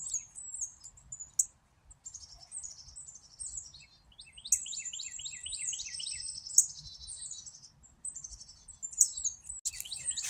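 Wild birds at a backyard feeder chirp and tweet in quick bursts and trilling runs, some close and bright, others fainter, with short quiet gaps between them and no voices.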